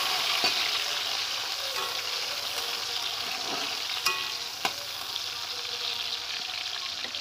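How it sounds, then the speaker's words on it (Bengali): Chopped tomato being stirred in a frying pan with hot oil: a continuous loud sizzle with occasional scraping and clicking of the spoon against the pan, no talking. "টমেটোটা দিয়ে আমি ভালো করে নেড়ে নেব।"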